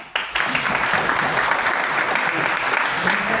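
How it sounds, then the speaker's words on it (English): Audience applause at a tech demo night, a dense, steady burst of many hands clapping that starts abruptly and holds at full strength with some crowd noise. "Michelle a round of applause"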